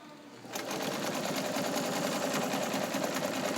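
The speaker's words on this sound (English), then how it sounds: "Let's see if I can mimic a satin stitch here." Vintage Kenmore 158.1750 sewing machine running a zigzag stitch as a close, loud, steady rapid clatter that starts abruptly and continues without a break.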